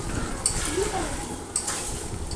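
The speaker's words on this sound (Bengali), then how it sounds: "দেখেন আমি এখনও কষিয়ে যাচ্ছি" Meat is stirred and sautéed in a pot for kosha, with a spoon scraping and clinking against the metal over a low sizzle, two sharper knocks standing out.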